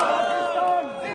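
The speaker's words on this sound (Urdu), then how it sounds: "یوکرین سے آئے پاکستانی طلبہ نے وطن واپس پہنچ کر پاکستان زندہ باد اور PIA پائندہ باد کے فلک شگاف نعرے لگائے" Crowd of Pakistani students just returned from Ukraine, shouting a loud sustained chant of Pakistan Zindabad slogans at Islamabad International Airport, many voices merged close and dense, cutting off abruptly.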